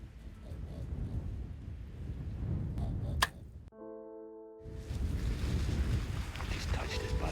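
Strong Newfoundland wind buffets the microphone in a steady roaring rumble outdoors on a caribou hunt, broken by a sharp click and a brief muffled gap before the gusting resumes.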